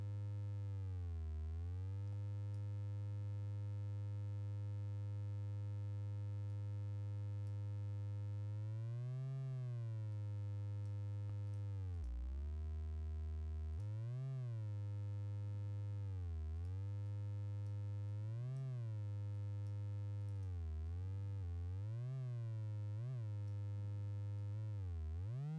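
A cinematic riser synthesized in Reaktor: a sustained, buzzy harmonic tone that drones for over twenty seconds, repeatedly swooping up and down in pitch with quicker bends toward the end. It plays alone, with no talking.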